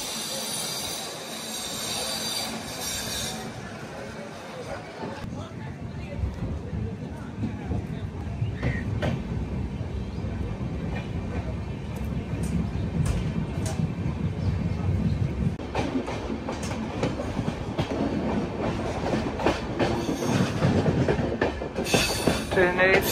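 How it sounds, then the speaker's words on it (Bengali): A Shantiniketan Express rolls along after leaving Guskara station, its wheels clattering and rumbling over a track change in a steady heavy rhythm, with a high squeal of wheels on rail and a constant loud carriage roar. "ট্রেনের ট্র্যাক চেঞ্জের সাউন্ডটা বেশ সুন্দর, ধাক ধাক ধাক ধাক"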